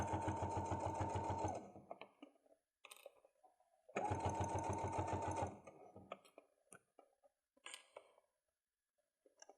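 A sewing machine stitches a fabric pencil case in two close, steady runs of rapid mechanical chattering, each lasting about a second and a half. Quiet handling and adjustment of the fabric can be heard between the runs.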